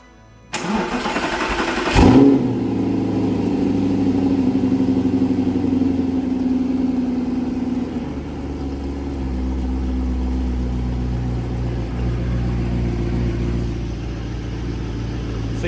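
A supercharged Audi R8 V8 cranks briefly, then catches and fires up with a loud burst before settling into a steady, rumbling idle that softens a little later on. Close, with no talk.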